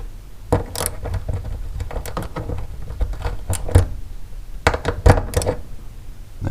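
Clicks and metallic ratcheting of a 5/16 socket backing screws out during fuel pump work on a 2003 Toyota Matrix, coming as irregular short bursts close up, with no talk.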